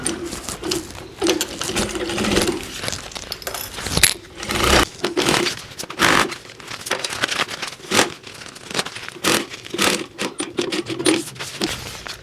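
A sewing machine stitches a zipper onto the lining of a handmade bag, giving a loud, close, continuous mechanical rattle with brief pauses and bursts of fabric handling throughout.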